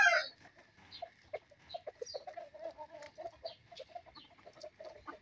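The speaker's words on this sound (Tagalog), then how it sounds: "Dito, nagpapakain po ng mga manok po nila." Chickens cluck and murmur in short, busy bursts while being fed, several birds close by, with an occasional louder squawk at the start.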